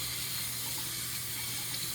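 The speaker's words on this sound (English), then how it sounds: "next we're going to go ahead and just wash the cilantro" Cilantro being washed under running tap water in a kitchen sink, a steady even gush of water, close and continuous, with no voices.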